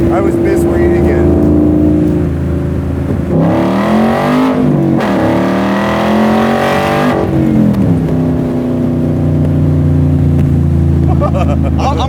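A Shelby Cobra R with a Gen 3 Coyote V8 and side pipes burbles loudly and steadily, rising in pitch as it revs up before easing back, with people talking over the engine.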